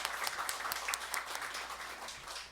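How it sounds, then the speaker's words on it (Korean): A church congregation at a Sunday morning service applauds in welcome for a visitor, a steady patter of clapping that fills the room at moderate level without voices over it. "박수로 환영해 주십시오."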